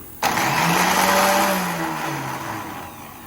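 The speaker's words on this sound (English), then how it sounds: "before I sell a starter gear, let's see, does this starter actually even work?" Electric starter on an Ariens 8526 snowblower that won't start, cranking with a sudden onset into a loud whirring whine that rises slightly, then slowly winds down over about three seconds.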